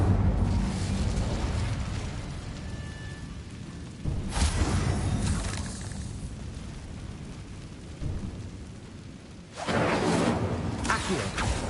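An Incendio fire spell cast in Hogwarts Legacy, heavy rumbling blasts of flame with whooshing bursts that surge loudly around four and nine and a half seconds over a continuous low roar of fire and game ambience.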